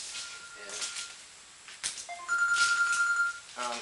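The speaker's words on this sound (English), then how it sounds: "I'm just going to ignore that phone call." An incoming call sets a phone ringing, its electronic ringtone repeating in short tonal bursts with pauses between them, fairly close and loud, with no talking over it.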